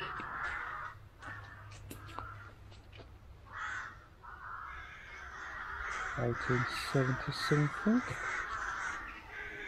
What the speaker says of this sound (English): the crows are circling us